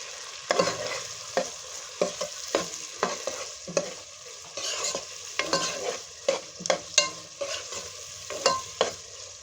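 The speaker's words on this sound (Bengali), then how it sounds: "আমরা আমাদের পরিমাণ মতো লবণ দিয়ে দিচ্ছি এরপর নেড়ে দিবেন" Beef haleem made from a ready mix is stirred in a pot after salt goes in, giving a steady run of loud, close scraping strokes over a light sizzle, with no talking.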